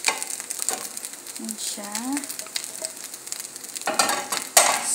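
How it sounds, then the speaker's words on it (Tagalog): Egg being stirred into fried rice in a hot pan, with a steady close sizzle and scraping stir strokes, and someone speaking briefly over it. "Ihahalo na natin ang ating egg."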